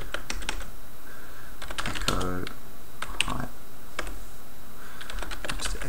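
Typing on a computer keyboard in a Linux terminal session, a quick flurry of close key clicks in short bursts with brief pauses between, clear and distinct over a quiet room.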